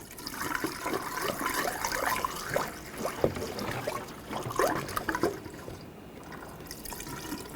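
Windshield washer fluid poured into a new washer reservoir on a 2013-2019 Ford Escape, a steady close trickle and gurgle of liquid filling the plastic tank, alone with no talk.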